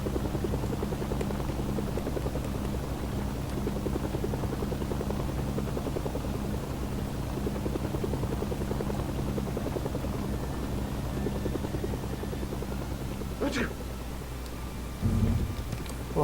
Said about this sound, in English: Usually that city has a lot of North Korean helicopters flying around.